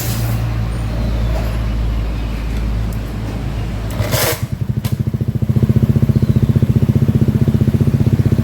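A Honda Beat FI scooter engine, just repaired after a fuel pump and ECU relay fault, fires up after a burst of noise and settles into a close, steady, rhythmic idle.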